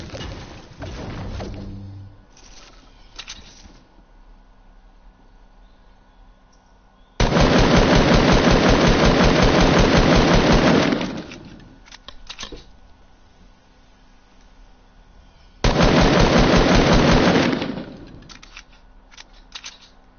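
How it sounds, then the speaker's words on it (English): Gunfire heard twice as long, loud bursts of rapid, dense shots, each lasting a few seconds and separated by a quieter stretch with faint background sound. "Shots again."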